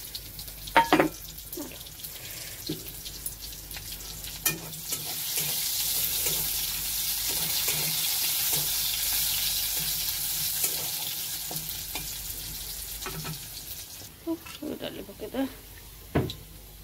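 Cumin, bay leaf, dried red chilli and onion fry in hot oil in a kadhai, a steady broadband sizzle swelling in the middle with scattered spoon scrapes and clinks, and a voice speaking intermittently near the start and end.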